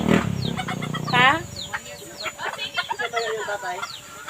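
Chickens cluck and squawk at close range, with a brief rising crow-like call, while people talk over them during feeding time.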